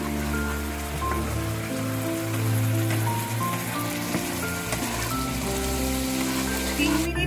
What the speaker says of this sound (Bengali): মশলাটা লো টু মিডিয়াম আছে, আমি ভালো করে ভেজে নিচ্ছি